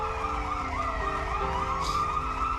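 Ambulance siren from a video game, a wailing tone cycling steadily over a faint background hum, moderately quiet and unbroken, with no talking.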